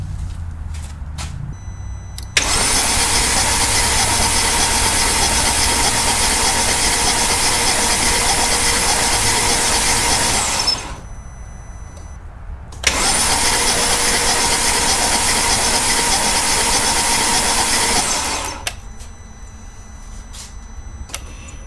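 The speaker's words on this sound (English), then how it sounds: "let's crank this engine a couple more times" A 2008 Mercedes-Benz CLK engine cranks on its starter in two long, loud, steady bursts of about eight and six seconds, separated by a short pause, with no speech.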